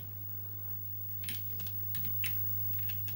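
A few faint, scattered key clicks on a repaired Thomson TO9 computer keyboard, one whose broken circuit traces were redone, heard over a steady low electrical hum in a quiet room.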